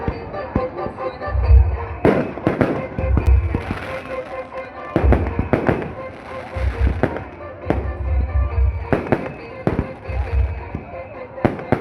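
Firecrackers burst in repeated clusters of sharp bangs and deep thumps, some near and loud, others farther off, spread across the stretch with people talking in between.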